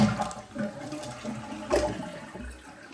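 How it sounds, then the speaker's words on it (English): A Kohler toilet with a weak flush flushes nearby, the water whooshing and gurgling in uneven surges that fade and swell again, with no voices over it. "We'll give it a flush."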